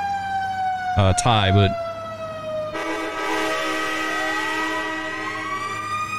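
Emergency vehicle Q siren and a train horn in the EmergeNYC game: a loud horn blast with stacked harmonic tones, then a steady wailing siren tone gliding underneath, with a brief voice at the start.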